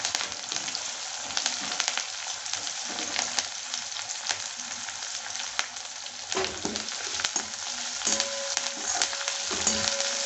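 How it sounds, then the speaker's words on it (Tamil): Onion, garlic and curry leaves with green chillies sautéing in hot oil in a pan, a steady loud sizzle with frequent scrapes and clicks of a spatula stirring throughout, close up. "கொஞ்சம் நேரம் வதக்கிக்கிறோங்க."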